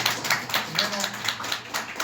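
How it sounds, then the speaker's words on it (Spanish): Applause in a church meeting, a loose patter of hand claps with uneven rhythm, moderately close, mixed with a speaking voice throughout. "Vamos a dar un fuerte aplauso al Señor"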